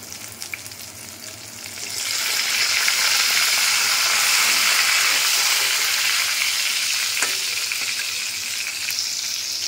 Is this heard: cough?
no